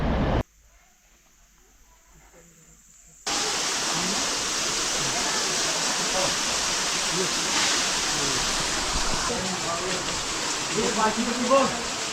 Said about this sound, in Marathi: पुढे पाऊस बघा काय पडतोय तो